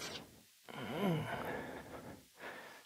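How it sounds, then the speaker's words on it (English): A person making exaggerated, creepy heavy breathing noises as a comic ASMR parody while doing squats, with long loud breaths and huffs close to the microphone, one sustained and strained, separated by brief pauses. "Creepy breathing sounds."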